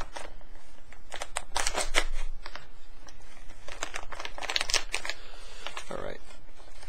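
A military MRE meal package is cut open with scissors, giving a series of crisp snips and crinkling plastic rustles close by, with speech heard intermittently throughout.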